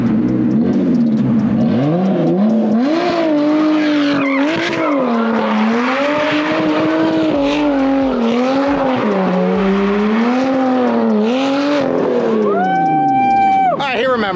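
A car spins street donuts with its engine revving hard and tires screeching continuously, the pitch rising and falling as it circles close by, ending in a higher engine whine.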